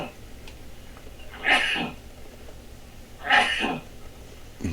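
A person sneezes twice in succession, each a sharp, loud burst about two seconds apart, over faint room background.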